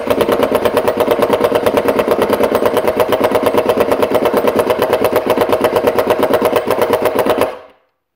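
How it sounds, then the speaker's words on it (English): Impact driver sinking a P2 Phillips screw while mounting a bathroom robe and towel hook, a loud, rapid, continuous hammering rattle held steady for about seven seconds before cutting off abruptly. "Switching to an impact driver with a P2 screw, Phillips screw head on it."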